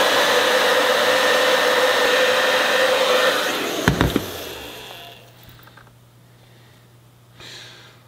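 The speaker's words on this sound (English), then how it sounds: "let me see if I can melt this wax with just a hairdryer" A hair dryer blowing on gun wax roars steadily up close, then is switched off around midway with a clatter, leaving a low hum and faint rustling.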